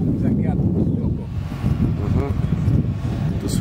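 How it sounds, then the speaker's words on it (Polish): Strong wind buffets the microphone outdoors at a pigeon racing competition, a continuous loud roar and rumble that persists the whole time, with people talking underneath. "Niby nie było wiatru, ale teraz jest bardzo silny"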